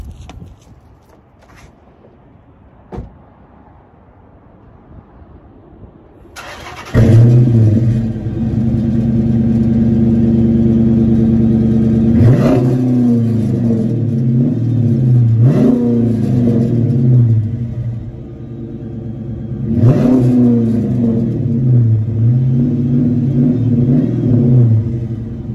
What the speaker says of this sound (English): For the exhaust, it has Flowmaster mufflers with a ace pipe.